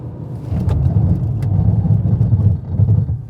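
A 2025 Mercedes-Benz GLB braking hard from 100 km/h, heard from inside the cabin as a loud, steady low road and tyre rumble, with a few faint knocks and no talking.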